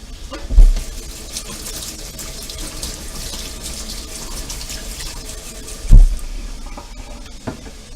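Tap water runs steadily into a sink while organic celery is rinsed, a continuous close splashing wash with a couple of heavier thumps as the stalks are moved under the stream.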